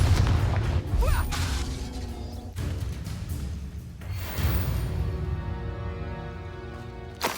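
Several Confringo blasting spells cast in the Hogwarts Legacy video game, each a sharp explosive burst with crackling debris, repeated in a series of loud, close impacts amid busy game sound.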